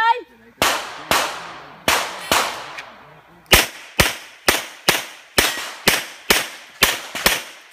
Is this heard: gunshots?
yes